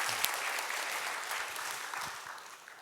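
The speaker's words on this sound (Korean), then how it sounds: "다시 한번 우리 영광의 박수 한번 하시겠습니다." Applause from a Korean church congregation at a Wednesday service after a hymn, a dense and steady wash of clapping hands from many people that fades slightly toward the end.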